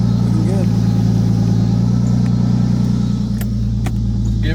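A Nissan R32 Skyline on a test drive gives a steady, loud low engine drone with a fine rhythmic pulse and road rumble throughout.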